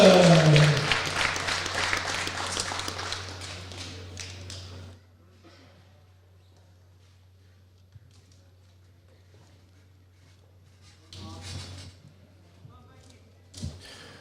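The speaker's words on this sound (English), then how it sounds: "keep your applause going for his opponent, John Stevenson." Crowd applause fills a boxing championship arena for about five seconds, dense and loud, then fades to quiet room tone with a low steady hum, broken near the end by a couple of brief bursts of clapping and a thump.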